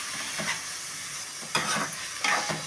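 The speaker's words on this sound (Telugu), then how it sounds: "చక్కగా తిప్పి" Finely chopped tomato and onion being stirred in a hot pan while making a Karnataka girmit snack: a steady sizzle underneath, broken by a few scraping strokes of the spoon, close up with no voices.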